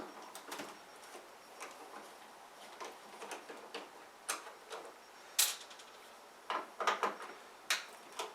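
Sharp irregular ticks and clicks from a brand-new, faulty air conditioner repeat over several seconds, fairly faint, with a soft background hiss and no talking.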